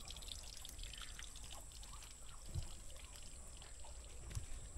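Water runs steadily into a duck pond and spills over its edge, a continuous trickling and splashing wash heard alone at moderate level, with a couple of soft thumps.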